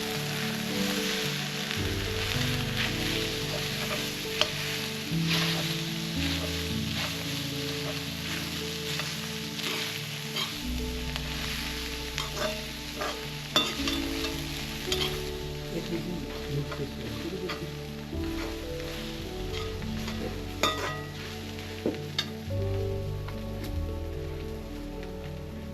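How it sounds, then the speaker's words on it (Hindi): Chopped tomatoes and simple spices fry in a kadhai in a remote Nepali village kitchen, giving a steady close sizzle with crackling pops throughout, no talk. "थोड़ी देर बाद उसमें कटे हुए टमाटर और कुछ साधारण मसाले डाले जाते हैं।"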